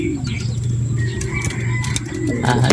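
A pigeon coos softly and steadily, close by, with a low continuous hum underneath and no voices.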